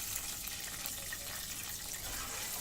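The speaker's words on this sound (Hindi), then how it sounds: "अब इसमें हम पानी डाल देंगे।" Water pouring into a cooking pot of salted water for rice, a steady splashing rush that runs unbroken and fairly close throughout with no voices.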